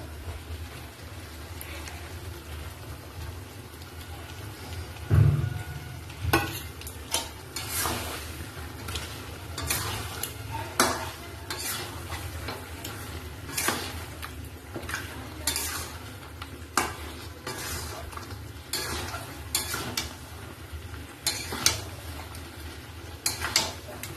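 Spice paste of ground cumin, coriander and chili powder frying with mutton for a curry, a steady low sizzle broken by frequent sharp spoon-stirring scrapes and clatters against the pot, close and continuous with no talk.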